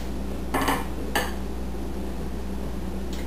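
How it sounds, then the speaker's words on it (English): Dry banana bread ingredients tipped into wet batter in a mixing bowl, with two short bursts of clinking against the bowl and utensil scraping, near and fairly quiet over a low steady kitchen hum. "Now we just add our dry ingredients to our wet."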